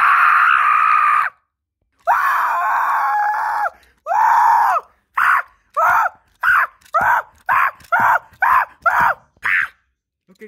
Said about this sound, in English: Stop the screaming.